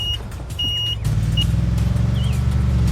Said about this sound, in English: The truck drives away, taking the grass to fill the big hole.